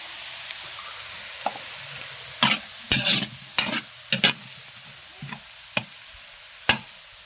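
Sautéed mixed vegetables in a pan, ginisang gulay, stirred with a spatula: a faint background sizzle under a run of distinct scraping and clattering stirs, some in quick clusters, others isolated.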